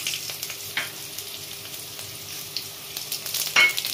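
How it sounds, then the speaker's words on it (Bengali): Bay leaf and chopped dried red chili tempering in hot oil for a Bengali fish curry with taro, giving a steady soft sizzle with faint crackles and a brief sharper spurt near the end, close by with no talk. "এখানে দিচ্ছি আমি তেজপাতা ফোড়ন, শুকনো লঙ্কা কোটা দিয়ে"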